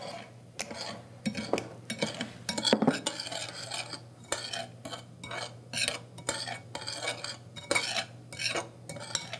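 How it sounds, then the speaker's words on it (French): A utensil stirs a sugar mixture for chocolate truffles in a bowl, making close, repeated scraping and clinking strokes in an uneven rhythm, with no voices. "Est-ce que tu veux mélanger? On essaye d'avoir un mélange homogène."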